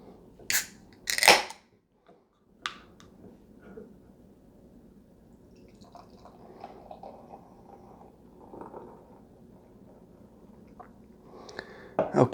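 A can of Goose Island Hazy Beer Hug IPA is cracked open with two sharp snapping bursts and a short hiss, followed by quieter handling and faint fizzing, close and alone without talk.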